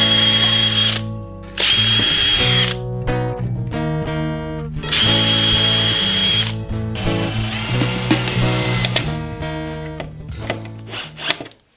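A power drill drives old screws into wood while a dry composting toilet is being built, with several loud bursts of whirring and ratcheting separated by short pauses, close up with no talk.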